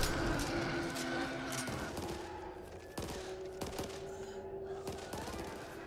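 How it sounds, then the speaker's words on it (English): Firecrackers in the video game Back 4 Blood crackle in rapid bursts of sharp cracks and pops, irregular clusters over several seconds, layered with a steady tonal hum. "Firecrackers."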